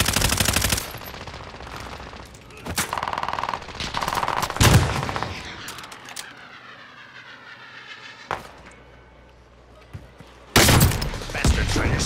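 Gunfire bursts in a Call of Duty: Modern Warfare match, loud rapid automatic volleys at the start, middle and end, with quieter game ambience and a descending whine between them.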